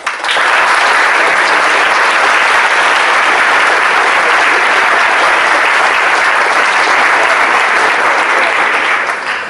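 Sustained, loud applause fills a school prize assembly hall, a dense unbroken wash of clapping from a large audience that holds steady for the whole stretch with no voices on top.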